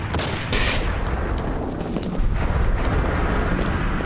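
The SS shotgun in the video game Enter the Matrix fires in loud, dense blasts, one after another, over a rumbling backdrop of game noise.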